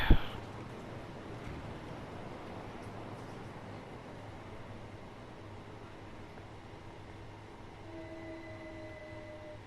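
Class 377 electric train in Train Sim World running over a level crossing toward Berwick, a steady rumbling roll of wheels and traction hum with a thin whining tone toward the end, after a brief bump at the start.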